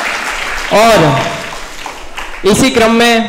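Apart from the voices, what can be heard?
audience applause welcoming the speakers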